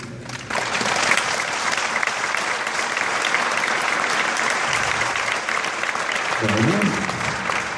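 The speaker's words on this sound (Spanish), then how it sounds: "Yo creo que Jeremías está contento con ese aplauso." Congregation in a church applauding steadily for several seconds, a dense wash of many hands clapping with a low voice briefly audible near the end.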